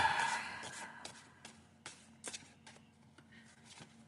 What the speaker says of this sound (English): I guess I'm gonna have to shuffle the cards then.